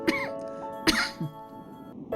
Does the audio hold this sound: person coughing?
yes